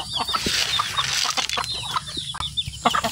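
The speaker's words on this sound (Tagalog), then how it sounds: "Kagulo na ang mga manok." Chickens cluck and squawk close by in a busy, irregular chatter, with bright rustling noise and scattered short calls throughout.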